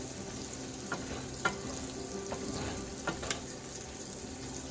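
Meat for Bicol Express frying and browning in a pan, a low steady sizzle with scattered crackles and light scraping as it is stirred.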